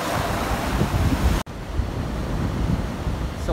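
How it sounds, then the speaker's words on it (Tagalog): Strong sea waves break on a windy shore in Albay, with a loud continuous roar of surf and heavy wind buffeting the microphone and a brief dropout partway through. "So nandito na sa dagat. Parang malakas ang alon."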